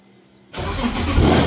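A supercharged BMW E46 drift car fires up after half a second of near silence, then settles into a loud, rough, close idle.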